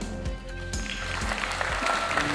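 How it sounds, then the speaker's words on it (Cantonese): A banquet-hall crowd at a Hong Kong charity dinner breaks into sustained applause for the guests of honour, a continuous wash of clapping over a low background hum and faint music tones. "請大家以熱烈嘅掌聲歡迎我哋嘅主禮嘉賓"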